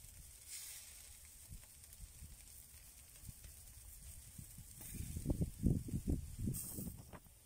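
Potato sausage fries over an open fire outdoors in a village, a soft steady sizzle with low crackles and pops that swell louder toward the end, close with no talking.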